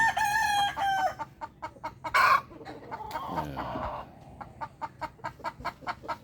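A Sweater bloodline gamefowl rooster, called a bone crusher, crows loudly close by, followed by a run of short, rhythmic clucks from the birds.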